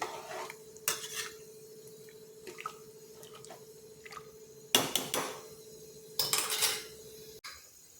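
Rice and chana masala stirred with a metal spoon in a pressure cooker, the utensil scraping and clinking against the pot in several separate bursts over a steady background hum.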